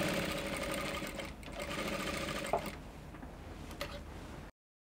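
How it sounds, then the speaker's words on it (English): A sewing machine runs steadily and close while stitching a button loop on a kimono dress, then slows and stops, leaving a few faint clicks and taps. "So I'm done stitching the loop on it."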